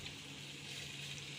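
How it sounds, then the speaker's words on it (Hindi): Water runs into a pressure cooker holding browned desi chicken, making a brief, steady, hissing gush at low level with no break or change. "भूनने के बाद हम इसमें पानी डाल देंगे।"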